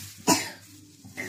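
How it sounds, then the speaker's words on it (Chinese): A child gives a single sharp cough close to the microphone, followed by quieter throat sounds and a soft breath in a kitchen. "妈妈，我咳嗽了"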